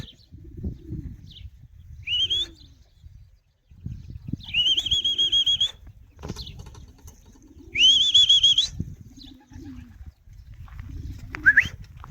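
Racing pigeons arriving at the loft after a roughly 200 km speed race, with bursts of wing flapping and fluttering close by, repeated whistling calls, and shuffling, rustling movement between the flights.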